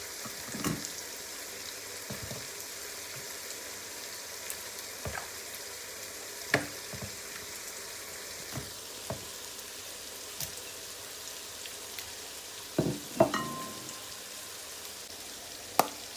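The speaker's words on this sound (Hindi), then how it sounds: "जितनी देर में हमारा प्याज फ्राई हो रहा है" Onions fry with a steady, soft sizzle in a pot, broken by occasional scrapes and clinks of a spoon stirring.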